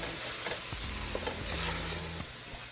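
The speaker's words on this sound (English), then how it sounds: "Give that a little stir." Chopped celery, green peppers and onions sizzle in a gumbo roux while a spoon stirs them, giving a constant hiss with soft scraping strokes close by. No talking.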